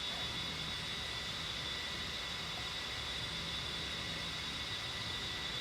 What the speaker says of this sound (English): I like how you can hear the wind going over the canopy.